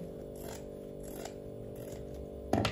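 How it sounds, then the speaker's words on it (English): Scissors snip away excess fabric while a cowgirl fascinator is made from a dress, a few quiet close cuts over a low steady hum, ending with a louder crisp snip. "So I'm going to go ahead and trim off some excess from here."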